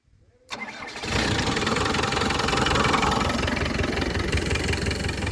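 Land Rover Discovery 1, abandoned on a farm for 20 years, cranks and fires into a steady running engine in reverse gear, the rough mid-pitched idle holding loud and close after a brief quiet start.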